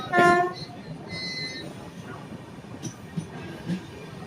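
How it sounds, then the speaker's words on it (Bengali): Heard from on board, the Tamralipta SF Express rolls slowly through Deshapran station on a loop line without stopping, heading toward Contai, giving a low, steady rumble with faint clanks. A short voice-like tone sounds at the start. "আমাদের ট্রেন এখন ঢুকছে দেশপ্রাণ স্টেশনে।"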